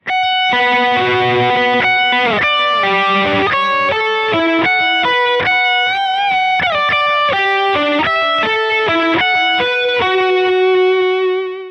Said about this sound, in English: so I went for delay, and I'm going to use the Dispatch Master by Earthquaker Devices